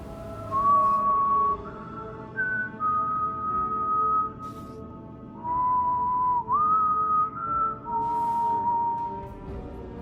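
A single person whistles the Savathun theme song from the video game Destiny 2, a slow clear melody of held notes with short pauses between phrases, close and alone over faint background hiss.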